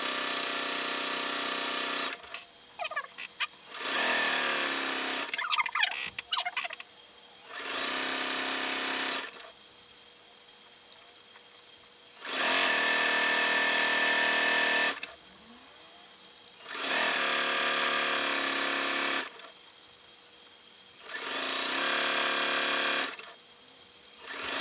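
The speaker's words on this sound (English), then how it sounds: "Your machine is noisier when you have a walking foot on it." A sewing machine fitted with a walking foot runs in repeated loud bursts of a few seconds each, separated by short pauses, with faint handling noises in the gaps and no talking.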